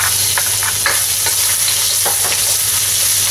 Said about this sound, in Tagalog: Magigisa tayo ng garlic